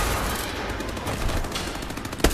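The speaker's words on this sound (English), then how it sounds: "Some gunfire over here." Rapid gunfire in Call of Duty: Advanced Warfare crackles in dense bursts, a continuous rattle of shots at moderate distance ending with a louder close report, no talk over it.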